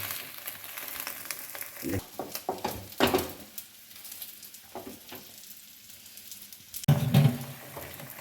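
Homemade flatbread frying in a little oil in a pan, giving a faint continuous sizzle with scattered crackles and a few louder bursts near the end, heard up close in a home kitchen.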